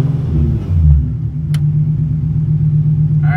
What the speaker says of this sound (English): Listen to how like loud this new fuel pump is.